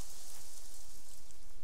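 Steady rainfall in the survival crafting video game Craft The World, a constant hissing patter of drops that stays even and fairly loud from start to finish.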